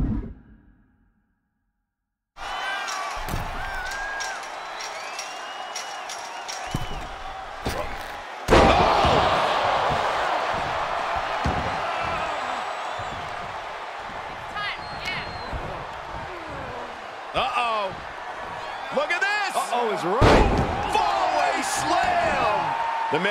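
Wrestlers in WWE 2K23 land a military press slam and a power slam: loud thudding body impacts on the ring mat hit after an initial silence, amid a roaring arena crowd and excited play-by-play commentary.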